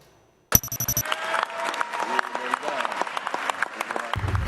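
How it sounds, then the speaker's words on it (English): Warm applause from a crowd greeting the newly proclaimed Philippine President-elect Bongbong Marcos and his wife at the Batasan, a dense, steady clapping that rises abruptly and holds throughout, with a brief tonal sting at the start. "A warm applause greeted President-elect Bongbong Marcos and her wife Liza Araneta Marcos."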